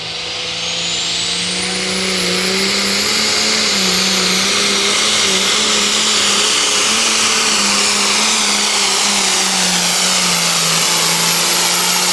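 A super stock / pro stock pulling tractor engine at the Buck roars loud and close, its whine climbing steeply over the first seconds and then holding at a sustained high-pitched scream with no talking.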